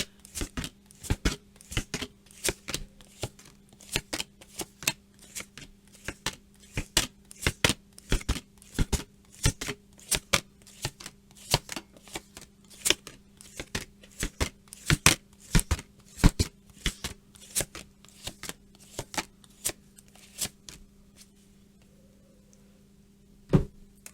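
Tarot cards being shuffled and laid down, a long series of sharp, crisp riffling snaps and slaps at irregular intervals, close up against a faint steady hum, without speech.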